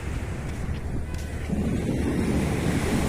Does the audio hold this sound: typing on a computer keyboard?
no